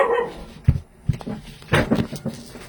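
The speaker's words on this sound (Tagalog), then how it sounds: "Masabay yung aso, ano?" A dog barks several times in short, sharp bursts at close range, with breaks between barks and some faint background noise.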